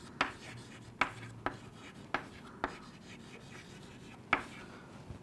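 A marker or chalk scratches across a classroom board in short strokes, each with a soft tap as it lands. The strokes come at an uneven rhythm, quiet and close, with no talking.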